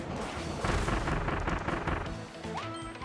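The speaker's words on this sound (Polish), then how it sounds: "Ale podoba mi się, jak w tej wodzie te bomby różne efekty mają, nie?" Bombs explode in water in the video game Kirby and the Forgotten Land, giving a dense, sustained burst of booming, splashing blasts that stays loud for about three seconds before easing slightly.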